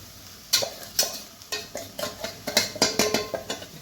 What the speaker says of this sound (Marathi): हलवून घेऊ, चांगली मिक्स करून घ्यायची भाजी आपल्याला।